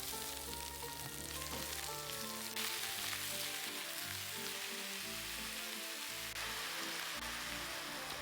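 Onion and beef fry in oil in a pan for doenjang jjigae, a steady, dense hiss and crackle of sizzling fat, with a soft stir or two underneath, no voices.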